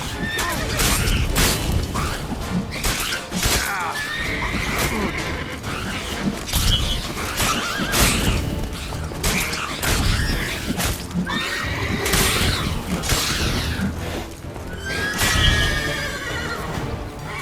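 Roach the horse in The Witcher 3 neighs and whinnies repeatedly over galloping hooves and clattering game effects, the calls loud and close, with occasional spoken voice mixed in.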